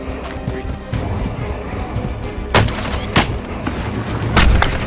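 Gunfire in a multiplayer shooter video game crackles throughout, with several sharp, loud shots standing out near the end, while radio-style callouts and player voices talk over the fighting.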